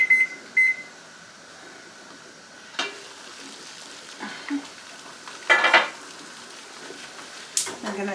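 Kitchen timer going off during apple butter canning, a few short, faint beeps at the start, followed by scattered clatter of pots, dishes and utensils in a kitchen.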